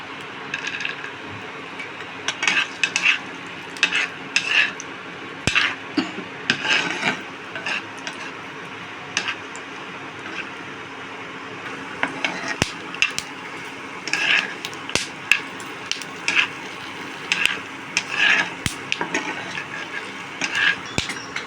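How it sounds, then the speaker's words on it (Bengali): Peanuts fry in hot oil in a frying pan while a utensil stirs and scrapes them, giving a steady soft sizzle broken by frequent clinks and scraping strokes, close up with no talking. "দেখুন কটা বাদাম ভেজে নিচ্ছি"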